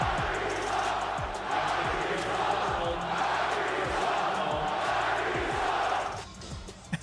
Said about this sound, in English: And the Boston crowd letting Kyrie know just how they feel about him.